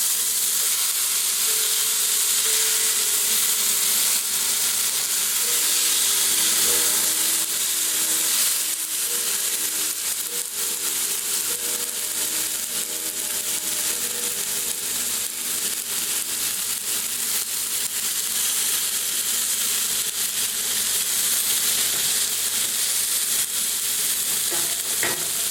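Beef browns in a pot for cowboy-style stew, a loud, unbroken crackling sizzle with a hissing wash of spatter that holds steady and close throughout, with no talk.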